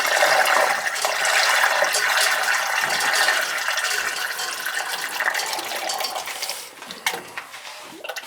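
Boiler seal liquid is poured into an old leaking boiler, making a steady splashing, gurgling pour that fills most of the stretch, easing off near the end with a few small clinks.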